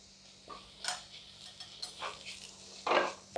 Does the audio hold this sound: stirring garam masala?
yes